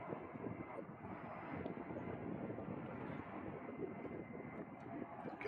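A USAF A-10 Thunderbolt II flying in to land at an air show in Stuart, Florida, its engines giving a steady, broad roar that holds even throughout, heard from a distance with no voices.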